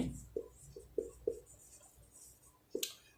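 Pen or pencil on paper, working out a class four math solution: short, quiet strokes and taps in an uneven rhythm, close and alone without talk.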